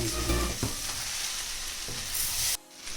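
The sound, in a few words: vegetables frying with salt and soy sauce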